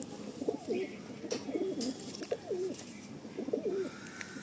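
Madrasi pigeons coo in a steady series of soft, rolling calls, close by and repeated about four times over light background noise.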